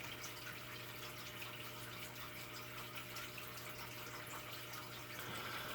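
Indoor water fountains running in a room with box fans, a soft continuous trickle and splash blended with a steady low hum, faint and unbroken throughout.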